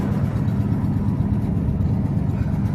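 A loud truck engine idles with a heavy, steady low rumble that stays close and constant throughout, with no talking.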